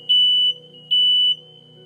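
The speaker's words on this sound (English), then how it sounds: "But the alarms are just loud." Two loud, piercing electronic beeps from a home smoke alarm, each lasting about half a second with a short gap between, over a low steady hum.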